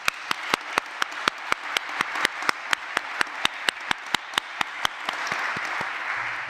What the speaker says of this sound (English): can we give them a round of applause for all these folks?